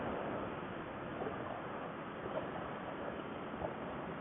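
Steady wind buffets the microphone outdoors during a road test of a 1997 Ducati Monster 900, a constant rough rushing noise throughout with no distinct engine note standing out.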